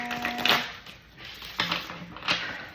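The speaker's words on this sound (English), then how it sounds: "I'm going to give this deck one more shuffle" Three quick bursts of riffling tarot card shuffling, each a short papery flutter, close and fairly quiet with pauses between them.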